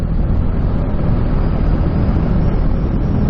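A Bajaj Dominar 400 motorcycle engine cruises at low revs in sixth gear around 4,000 RPM and 90, a steady loud drone buried in heavy wind rush with no change in pitch.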